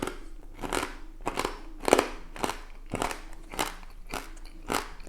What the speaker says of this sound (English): Yeah, that was a beautiful crunch.